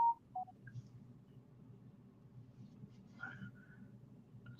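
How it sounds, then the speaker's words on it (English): A Samsung phone notification chime, a short bright electronic tone near the start and another brief chirp later, sitting over low background room murmur and faint voices. "It's like the Nokia noise sound."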